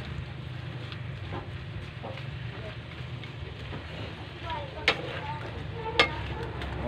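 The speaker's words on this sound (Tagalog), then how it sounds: "Haluin lang muna natin mga kapits para magkulay orange po siya lahat." Shrimp cooked in butter, garlic and oyster sauce is stirred in a pan, a soft sizzle under low background hum with scattered spoon scrapes and two sharp clinks against the pan.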